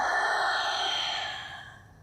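A single long, breathy exhale during a beginner Pilates mat breathing exercise, close and soft, trailing off gradually into quiet.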